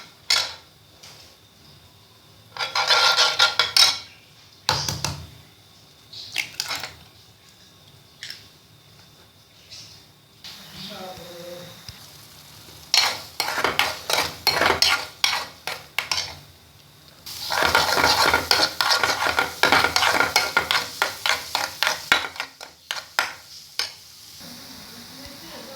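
Oil, salt and chilli go into a pan for cooking, with loud bursts of sizzling and frying alongside stirring and scraping of utensils against the pan, coming in irregular stretches separated by quieter pauses.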